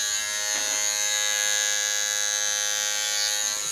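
A Philips Norelco MG9000 all-in-one electric trimmer runs continuously with a steady, high-pitched motor whine and buzz, close and loud, with no talking.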